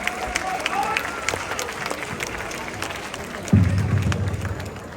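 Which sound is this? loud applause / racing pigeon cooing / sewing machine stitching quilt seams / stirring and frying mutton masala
loud applause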